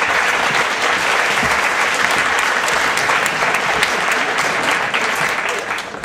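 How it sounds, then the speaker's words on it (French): Loud, dense applause from a conference audience rolls on steadily for about six seconds, then begins to fade at the end. "vous pouvez les applaudir très fort"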